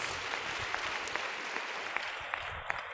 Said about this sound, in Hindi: जोर से ताली बजाएंगे यीशु जी के लिए